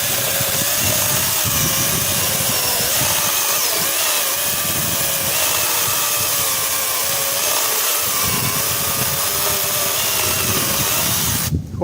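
An Iron Warrior LS-006 cordless chainsaw with a 12-inch bar cuts through dry wood outdoors, a loud, close, continuous buzzing chatter that runs nearly twelve seconds before cutting off abruptly at the end.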